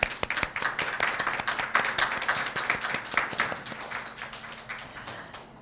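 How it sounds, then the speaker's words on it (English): Audience at a Black at Hostos town hall applauding keynote speaker Dr. Brenda Greene, a steady wash of many hands clapping at close range that holds throughout and thins slightly toward the end, with no talk over it. "let's give her a big round of applause"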